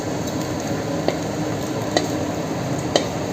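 Fried egg sizzles steadily in a pan while a utensil scoops it out, making three distinct scraping knocks at roughly one-second intervals over the hiss.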